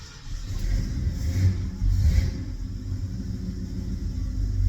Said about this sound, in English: first time starting from the key like a normal vehicle